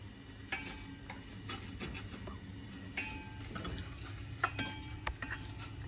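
Flattened rice (aval) gets stirred in a pan for Kerala ada, with soft scraping and light metallic clinks of a utensil against the pan at an irregular pace over a low background hum, with no voices.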